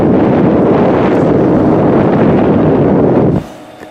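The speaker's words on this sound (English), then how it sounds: "Sounds more of a jet engine now, but there is certainly airflow there." A computer power supply fan blowing hard in a digital picture frame computer, giving a loud, close, steady jet-like rush of air that stops abruptly near the end.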